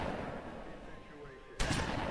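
Gunfire in the Zombie Hunter mobile game, a sharp burst of shots striking suddenly near the end after a rumbling stretch, close and loud.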